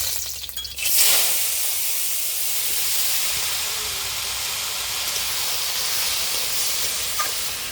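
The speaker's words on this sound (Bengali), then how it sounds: "একটুখানি থেতো করা রসুন দিয়ে দিচ্ছি।" Crushed garlic hits hot oil and sizzles in a pan: a sharp burst of bright hissing that settles into a steady, loud, continuous fry, with a few small pops, up close and without talk.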